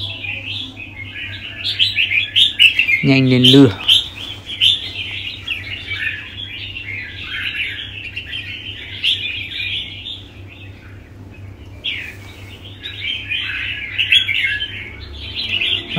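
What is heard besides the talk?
songbirds chirping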